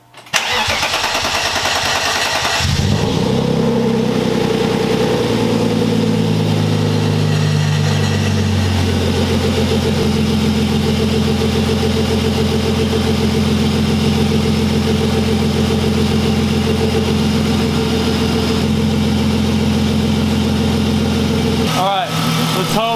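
A BMW M52 engine in an E36 build cranks and fires up, then settles into a loud, steady idle close by that runs on for about twenty seconds before cutting off.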